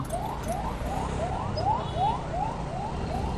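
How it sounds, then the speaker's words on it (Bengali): An ambulance siren wails in a traffic jam on a city road, sounding a quick rising whoop again and again at an even pace over a low traffic rumble. "এখানে একটা অ্যাম্বুলেন্স টেম্পো করতেছে"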